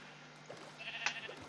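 A single short sheep bleat from Minecraft sounds faint and somewhat distant, rising briefly over a quiet background.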